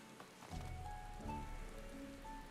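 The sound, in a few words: rain falling in video game Final Fantasy XIV Endwalker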